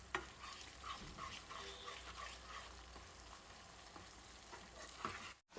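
Paneer methi chaman curry, seasoned with garam masala and a pinch of sugar, is stirred in a pan, a faint low sizzle with scattered soft scrapes and clicks of the spoon.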